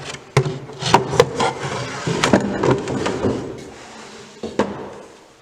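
Wooden drawer pulled out of an Enfield table with a fully enclosed mortise: a few sharp knocks followed by a dry, scraping wooden slide, then a final knock, close and fairly loud with no talk.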